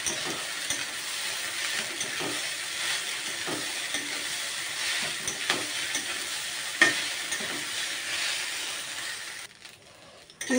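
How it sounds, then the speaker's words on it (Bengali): Egg pasta seasoned with chaat masala stir-fries in a pan, giving a steady close sizzle broken by repeated scraping stirs before it quiets at the end. "আমি এটাকে একটু সময় নিয়ে ভেজে নিয়েছি।"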